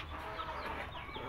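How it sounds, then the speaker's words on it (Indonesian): Young black European Shamo chickens, about four months old, clucking and murmuring steadily in a farm coop amid other fowl, a continuous close flock chatter with no talk. "Ini ada ayam Samo."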